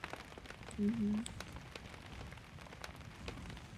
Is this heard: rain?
yes